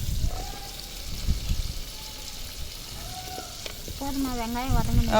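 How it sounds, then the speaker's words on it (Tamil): Onions and drumstick leaves sauté on a wood-fired stove with a steady low sizzle, broken by occasional stirring scrapes, and a voice speaks briefly near the end. "இப்போ நம்ம வந்து வெங்காயத்தை வதக்கிக்கிட்டு இருக்கிறோம்"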